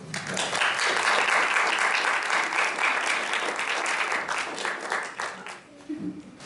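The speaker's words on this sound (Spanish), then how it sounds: "vamos a dar un fuerte aplauso" Sustained audience applause at a student conference session on humanism and literature, a dense, even clapping that holds strongly and then tapers toward the end.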